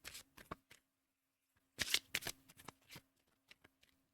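Oracle cards drawn and shuffled from a deck, a few crisp papery flicks and slides near the mic, then a busier burst of card snaps and taps, with quiet pauses between.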